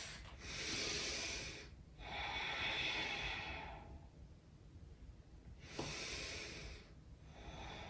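Slow, deep breaths drawn during a vinyasa yoga flow, held in a downward-facing dog pose: a long breathy hiss, then a pause, then another long breath, close and fairly quiet with no talking.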